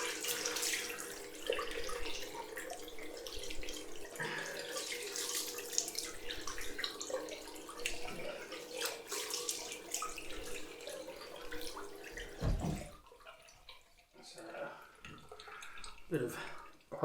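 Cold water runs from a tap during a head shave, a continuous splashing stream close by that cuts off near the end, followed by faint drips and handling sounds.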